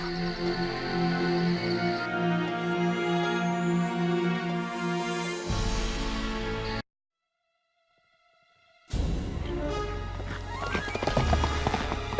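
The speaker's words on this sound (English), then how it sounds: "Then he shall ride my horse, Asfaloth." Horse galloping in the video game The Fellowship of the Ring, a fast clip-clop of hooves with neighing under an orchestral score, cut by a couple of seconds of near silence before the galloping and music resume.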